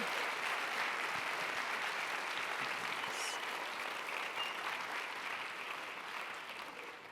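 Sustained, dense applause from an audience at an AI and emerging-technology talk, a steady wash of many hands clapping at even volume for several seconds before easing slightly at the end.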